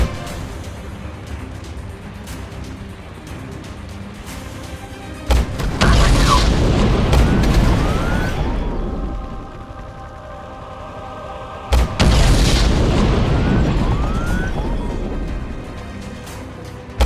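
Two heavy blasts from drone air strikes in a video game boom out one after another, each a loud sudden impact followed by several seconds of rumbling debris and roaring fire.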